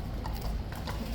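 Hooves of King's Guard horses clip-clop on hard ground during a dismount, a close, busy patter of steps lasting about a second with no talk over it.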